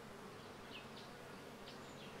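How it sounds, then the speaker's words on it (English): Bees buzzing at a beehive inside a baobab tree, a soft steady insect hum with a few passing buzzes, faint and continuous. "In this baobab, there is also a beehive."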